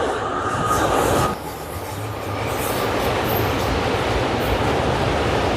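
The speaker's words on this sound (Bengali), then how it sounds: "মনে হচ্ছে একটা মালগাড়ি যাচ্ছে" A freight train rumbles steadily across the Gomti river rail bridge at Udaipur, a loud, continuous roar of wheels and rattling wagons that stays close throughout with a brief dip partway through.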